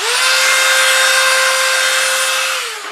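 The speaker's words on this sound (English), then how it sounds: "And then we'll sand the bottom a little bit, and then we'll work on the lid." A power sander whirs steadily against the bottom of a turned wooden burl edged box, a loud, close, even hum that holds for a few seconds and then winds down at the end; no talk.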